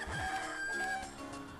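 Chicken sound effect from the game Zelda: The Minish Cap, a short run of chiptune-style clucks and squawks over quiet game music, with no talk.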